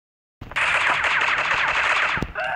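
An AUG rifle in Critical Ops fires a loud, continuous rapid burst of close gunshots that starts abruptly after a brief silence and runs for about two seconds.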